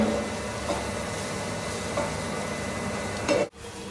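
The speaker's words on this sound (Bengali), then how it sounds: "এদিকে করলা ভাজা হচ্ছে" Steady close sizzling of bitter gourd frying in a pan, with occasional stirring clicks and scrapes, continuous with no voices.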